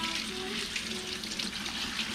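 Clear water running through a Neu Master paint spray gun during cleaning, a steady hissing splash of flow that continues unbroken, close and moderately loud.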